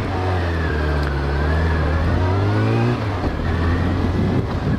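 A Suzuki 650 Bandit S motorcycle with a 4-into-1 exhaust revs up close and loud, its engine note rising into a long climb, dropping back around three seconds in, then holding a steady, strong idle-to-mid rev.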